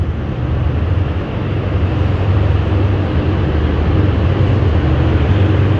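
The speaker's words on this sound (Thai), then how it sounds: "ได้ยินเสียงเร่งเครื่องมาแล้วนะครับ" Diesel locomotive GEA 4554 hauling Rapid train No.112 from Den Chai toward Bangkok accelerates past the Don Mueang crossing, a loud steady low engine roar and rumble that builds and holds close by.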